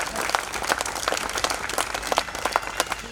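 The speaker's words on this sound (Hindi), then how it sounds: "इसके लिए जोरदार तालियां" Applause fills a theatre workshop hall, a dense, fairly soft patter of many hands clapping continuously with scattered louder claps standing out over a few seconds.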